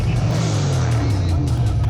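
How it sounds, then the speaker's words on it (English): A Chevrolet Monte Carlo holds a sustained, loud tire burnout, its engine droning low and steady beneath a continuous hiss of spinning rubber, close to the microphone. "This car does great burn. It's maybe the best burnout ever."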